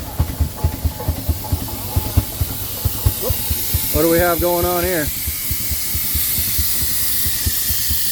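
Steady hissing of steam venting from the cylinder drain valves of an Avery 40 undermount steam traction engine, with rhythmic chuffing and someone speaking briefly over it.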